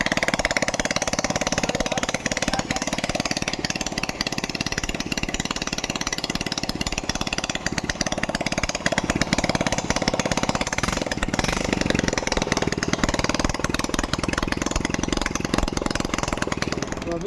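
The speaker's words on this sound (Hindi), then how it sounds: "अभी गाड़ी स्टार्ट करते हैं एक बार और चेक करते हैं." Rebuilt TVS XL100 moped engine running with no silencer fitted, a loud, harsh, continuous raw exhaust rattle that holds steady near the microphone for the whole stretch.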